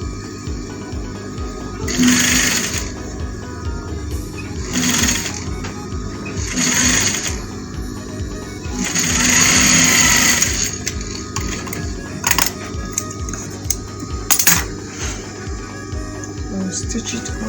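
A sewing machine stitches African top fabric in bursts of steady mechanical whirring, pausing and restarting several times, with a constant low hum underneath.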